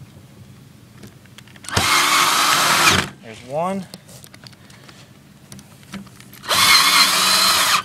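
A power drill drives screws through a magnalatch into a self-closing pool fence gate, two loud whirring bursts of about a second each, with a brief squeaky rising whine between them and a voice speaking briefly.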